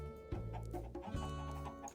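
Chickens in the video game Minecraft clucking in short repeated bursts, close and clear, with a low steady hum beneath them.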